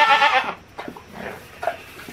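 A goat kid being weaned lets out a loud, wavering bleat close by, then a few softer follow-up cries trail off in the background.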